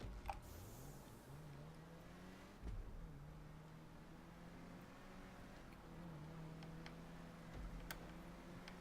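Engine of a Revolter car in a video game, a steady low drone holding a near-constant pitch with small shifts up and down as the revs change, fairly quiet and continuous with no talking over it.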